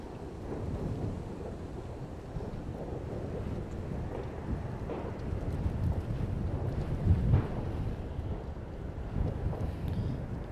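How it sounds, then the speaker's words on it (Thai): Strong wind buffets the microphone at a Tesla V4 Supercharger station, a continuous low rumbling roar with gusty swells, loudest around the middle, with no talking. "ตอนนี้ลมหน้าเสียงลมอาจจะแรงหน่อยนะครับ"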